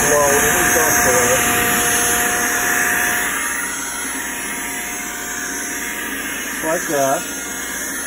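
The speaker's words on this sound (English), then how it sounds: "So, we're just gonna put our blower feature down." A blower blows dust off a taxidermy mount, a loud steady rushing whoosh that eases to a lower, quieter hiss partway through, with a short spoken phrase near the end.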